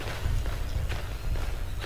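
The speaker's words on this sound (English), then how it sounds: "You can hear a footstep." Footsteps in the horror video game Slender: The Arrival, a run of soft thuds close by over a dense rumbling background, with no talk.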